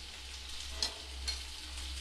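Spice paste of ground cumin, poppy seed and onion with salt, turmeric and chilli powder fries in a pan for a bhetki fish-bone curry: a faint steady sizzle with a few soft stirring scrapes over a low hum.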